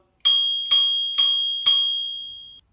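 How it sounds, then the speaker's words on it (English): Four crisp rings from the bell on a Varla Eagle One Pro electric scooter, evenly spaced and close, each ding bright and ringing before the last one fades out. "Over here's the bell."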